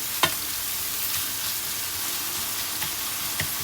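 Onions fry and sizzle in a pan while being stirred, with a steady close hiss and a few sharp scrapes of the spoon against the pan.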